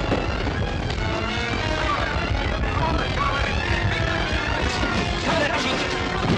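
Rapid machine gun fire and blasts in a 1939 film action scene, dense and loud throughout, with shouted voices mixed into the din.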